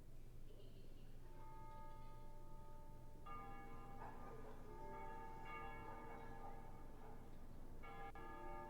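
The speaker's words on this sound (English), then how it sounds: "They ring the bells here at dusk to honor the liberation of the capital." Church bells peal at dusk in the video game Ace Combat Zero, several bells entering one after another and building into layered ringing tones over a steady low hum, moderately distant.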